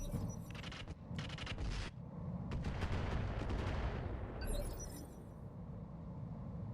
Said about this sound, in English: Wait, is that artillery?